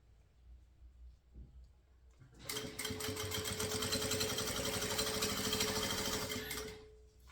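An electric sewing machine stitches a synthetic shoulder bag in a quiet room, starting after a couple of seconds with a fast, steady mechanical whir and rapid needle clatter that runs for about four seconds before stopping.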